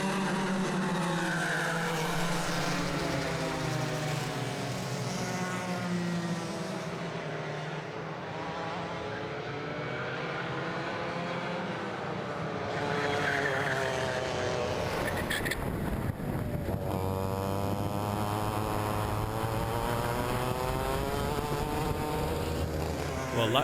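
Club100 racing karts scream past at Whilton Mill during a championship sprint race, high rising and falling engine whines sweeping by in overlapping waves, loud and close, with a fresh pass surging in near the end.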